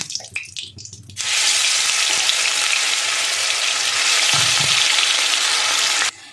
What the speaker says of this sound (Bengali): হিংটাও ভাজা হয়ে গেছে। এবার আমি এই পেঁপে বাটাটা প্রথমে দেবো।